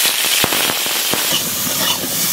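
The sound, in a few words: potato added to hot oil, sizzling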